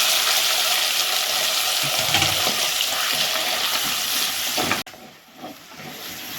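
Tomatoes hit hot oil with fennel seeds and curry leaves for crab masala, giving a close, steady frying sizzle and hiss that drops sharply near the end, then gentler sizzling continues.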